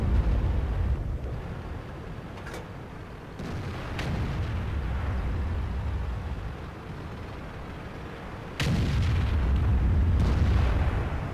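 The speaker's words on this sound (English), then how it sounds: "You can see every time I shoot" STB-1 tank cannon firing in a tank combat video game, heavy booming shots at intervals against steady rumbling engine and battle ambience, with a loud blast near the end.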